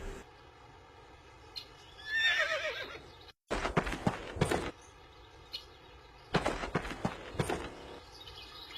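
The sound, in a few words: horse neighing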